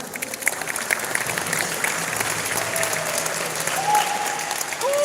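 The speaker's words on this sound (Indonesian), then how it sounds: "tepuk tangan." A crowd claps steadily and densely at a futsal trophy presentation ceremony, with faint voices and a few thin tones in the background.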